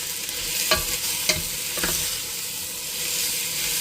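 Garlic frying in olive oil with onions and ginger in a stew pot, a steady close sizzle with a few scraping stirs of a utensil.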